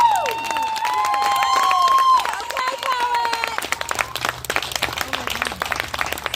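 An audience at a live spoken word poetry set in Modesto claps and cheers after a poem. The clapping and whoops pile up over a held vocal tone and other voices, then thin into scattered, choppy claps.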